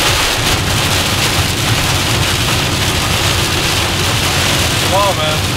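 Heavy rain pounds steadily on a vehicle during a storm chase amid tornadoes and hail in northeast Texas, a loud continuous roar with wind and low rumbling, voices briefly speaking near the end.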